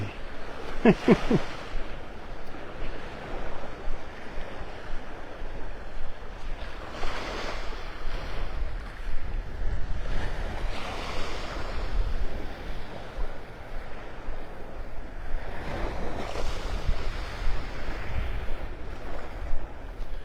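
Ocean waves washing onto the beach at Pelican Bay in North Naples, Florida, surging and receding in a slow rhythm of several swells under steady wind buffeting the microphone, with no voices.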